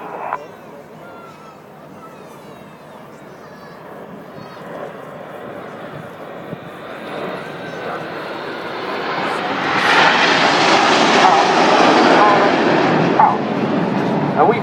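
Red Arrows jet aircraft flying a formation display, a broad engine roar that builds steadily and grows loudest toward the end, heard continuously at a distance with a dog barking faintly early on.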